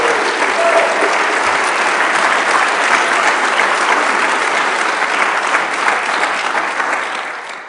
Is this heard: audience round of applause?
yes